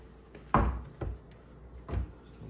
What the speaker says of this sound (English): Pull out drawers.